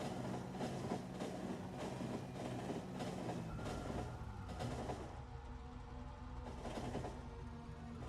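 Factorio train locomotive running, a steady rumbling rail drone with clanking wagon noise that holds constant and close throughout, with no talking over it.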